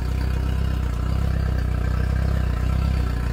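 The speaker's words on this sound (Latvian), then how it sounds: "Iedarbinam motoru." A boat's outboard petrol motor runs steadily after starting during engine servicing, a loud, close, low rumbling drone with a rapid regular pulse and faint mechanical clatter, holding an even idle throughout.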